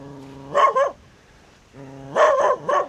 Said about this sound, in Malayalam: അതിൻ്റെ പുറത്തായിട്ടൊരു പട്ടി നിൽക്കുന്നുണ്ട്